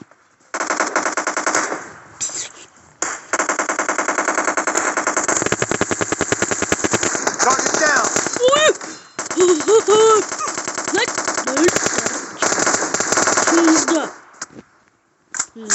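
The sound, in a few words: gunfire in a video game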